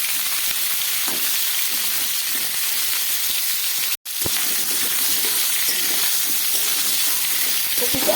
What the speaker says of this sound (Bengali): খুব ভালো করে কপি আর আলুটাকে আমি লাল করে ভেজে নেব।